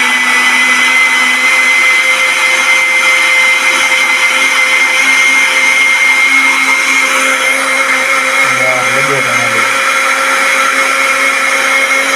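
A blender whirs steadily while making tomato juice at a party, a loud continuous motor hum with a brief lower grinding dip near the end.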